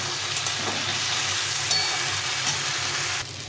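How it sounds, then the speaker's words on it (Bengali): Spice paste and vegetables frying in a pan, a steady, close sizzle and hiss with light stirring scrapes that cuts off near the end, leaving only a quieter background. "এই মশলাটা এখন আমি দিয়ে ভালো করে কষিয়ে নেব"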